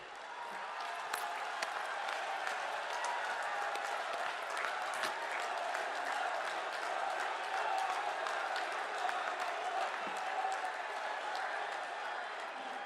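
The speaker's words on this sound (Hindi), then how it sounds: "अपने स्थान पर खड़े होकर प्रधानमंत्री जी की जोरदार तालियों के साथ स्वागत करें।" A large crowd at a public rally applauds to welcome the Prime Minister, with sustained dense clapping filling the space and a faint voice or two underneath.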